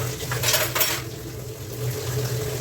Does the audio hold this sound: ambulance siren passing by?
no